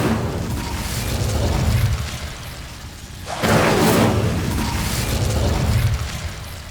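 The Incendio fire spell is cast in Hogwarts Legacy: a dense rumbling bed of sound breaks into a sudden bright whooshing burst partway through, then settles back to a roaring drone. No one speaks.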